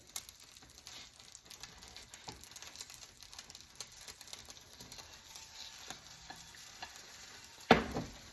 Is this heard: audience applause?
no